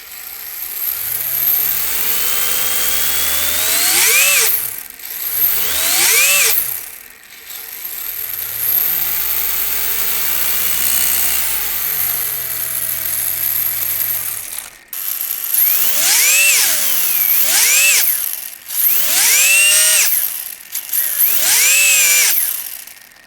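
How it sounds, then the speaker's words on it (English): A Maclan MDP brushless motor in an RC drift car revs repeatedly, its whine sweeping up and down in several bursts with short pauses between, loud and close with no talking. "Let's hear what this motor can do."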